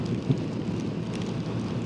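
Heavy rain pours down on a road, a dense steady roar of drops close by with a low rumbling undertone and no voices.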